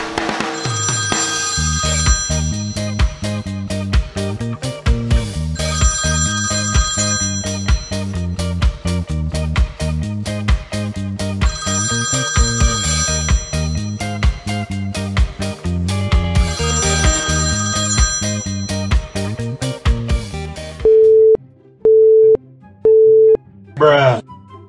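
A telephone rings again and again, loud repeated ringback bursts with short gaps for about twenty seconds, then switches to a few evenly spaced busy-signal tones, with no one answering.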